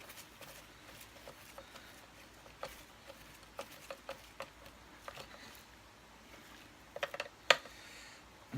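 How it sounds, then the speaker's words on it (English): Small screws on the front of a Kirby Sentria vacuum being driven tight during reassembly, a close, faint series of irregular ratcheting clicks and taps, with a few sharper knocks near the end. "Make sure all the front screws are done up tight"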